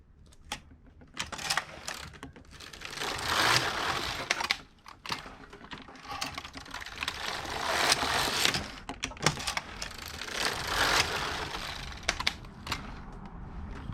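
A Passap E6000 knitting machine knits rows of a heel-flap sock gusset, its carriage clattering and rattling mechanically in repeated sweeps, loud and close with brief pauses between passes and no talk.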